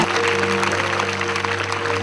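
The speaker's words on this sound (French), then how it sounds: "acclame très fort pour ce Jésus-là" Large audience claps and cheers loudly and continuously for Jesus at a 2016 evangelism campaign rally in Kononfla, Côte d'Ivoire, a dense, steady wash of applause with a sustained tonal hum underneath.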